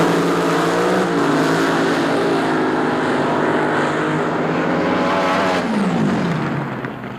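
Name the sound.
AA fuel dragster racing down a quarter-mile track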